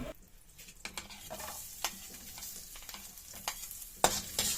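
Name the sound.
garlic sautéing in oil and butter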